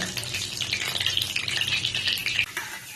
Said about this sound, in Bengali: এইবার ওই তেলের মধ্যে আমি একটু বাটার দিয়ে দেব